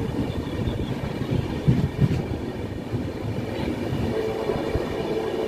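Passenger train from Chennai Central toward Vijayawada Junction, rumbling steadily through Tamil Nadu past Sullurpeta with continuous low wheel and carriage noise and a couple of slightly louder knocks, no talking.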